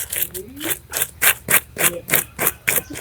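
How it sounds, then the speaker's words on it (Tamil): A fresh fish is scaled by hand for a village-style fish curry. Quick, rhythmic rasping strokes repeat about three per second, close and fairly loud, with no speech. "மீனோட செதில்னு சொல்லுவாங்க ஒரு சைடு அப்புறம் ஒன்றும் விடாமல் சுத்தமாக க்ளீன் பண்ணி எடுத்துட்டாரு"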